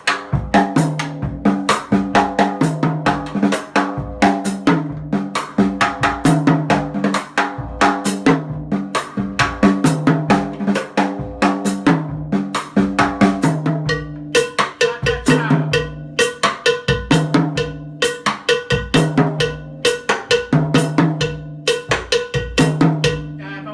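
Bolero beat on a cowbell struck with drumsticks, bright metallic clanks in a steady repeating pattern with accented hits, close and sustained, no talking.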